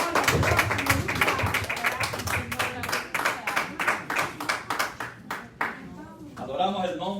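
Congregation clapping during a church service, sharp, fast hand claps that start dense and thin out into uneven, separated claps, before a voice speaks at the end.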